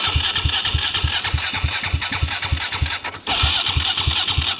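A quad bike engine turns over and catches, settling into a fast, even idle close by, with a brief dip as it nearly stalls before picking up again; no talk over it.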